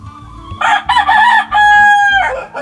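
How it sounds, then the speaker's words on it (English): A white-shanked seal rooster lets out a full, loud crow nearby, several strained syllables ending in a long held note that drops off abruptly. "He's a really pretty little rooster"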